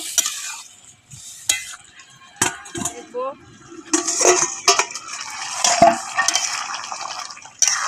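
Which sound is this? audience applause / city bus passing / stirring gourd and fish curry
stirring gourd and fish curry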